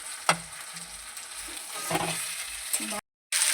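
Eggplant and bhetki fish bones fry and get stirred in oil in a pan, a soft, close sizzle with a few spoon scrapes and taps, ending with a brief silent gap.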